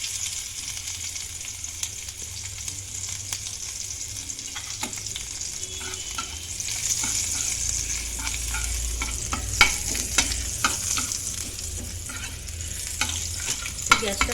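Garlic and ginger frying in hot oil, a steady close sizzle with frequent scraping and stirring clicks that grow busier and louder in the second half, no voices.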